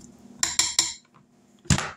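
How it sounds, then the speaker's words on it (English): A spoon stirring ham and potato soup in a pot, with three quick metallic clinks against the rim, a pause, then one louder scrape and clank, close by with no talking. "We'll stir it up so all those seasonings get mixed in."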